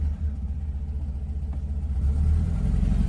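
Low idling rumble of an abandoned project car's engine as it is put into reverse, a steady close drone that swells slightly toward the end.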